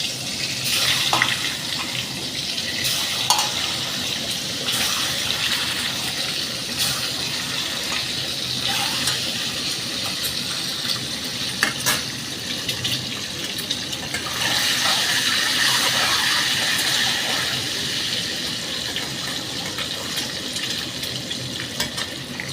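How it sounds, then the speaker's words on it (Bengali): Eggs rubbed with salt and turmeric fry lightly in hot oil for an egg curry, giving a steady, close broadband sizzle with scattered crackles and small clicks throughout. "তেলে আমি ডিমগুলো হালকা ভেজে তুলে নেবো"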